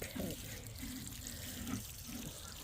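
Water is poured steadily onto a newly planted apple tree in a spring garden, a soft continuous gush and trickle into the soil, faint throughout.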